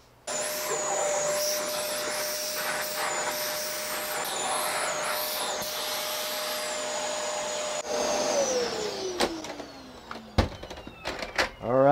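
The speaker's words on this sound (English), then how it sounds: "Let's vacuum this body." Vacuum cleaner run over an electric guitar body in a workshop, a steady close whine and airflow roar that shifts as the nozzle moves, then winds down with a falling pitch before some handling clatter.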